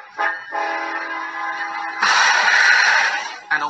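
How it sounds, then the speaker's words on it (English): An approaching train sounds its horn in several loud, sustained blasts with short breaks between them, the tone swelling brighter and louder toward the middle before a final short toot. "the sound of an approaching train"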